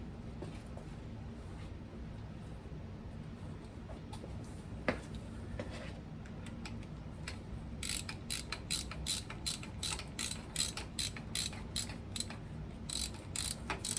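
Ratchet wrench tightening a small bolt on a 1955 Buick, rapid clicking bursts that grow more frequent and sharper toward the end over faint background hum, no talking.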